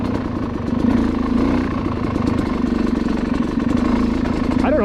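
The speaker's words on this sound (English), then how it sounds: "it can almost chug along at idle by itself" A dirt bike fitted with a GYTR weighted flywheel chugs at idle, a low, rapid, loping thump of the engine rolling along slowly, loud and close throughout.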